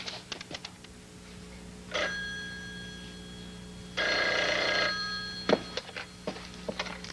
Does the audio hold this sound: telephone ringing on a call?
yes